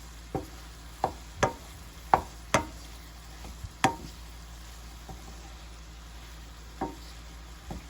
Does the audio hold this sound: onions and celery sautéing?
yes